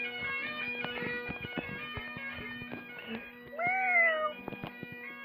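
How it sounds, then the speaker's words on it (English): A cat gives one clear, rising-then-falling meow near the end, close and distinct, against a faint tonal hum and scattered light taps, with no talking. "Meow cat."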